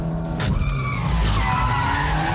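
Ford Puma tires skidding through a handbrake turn on a drift course, a loud sustained squeal over engine noise that rises and falls for a couple of seconds, heard alone without voices.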